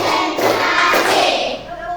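Hands clap together in a counted classroom routine, a busy run of close, overlapping claps that swells and dips over two seconds.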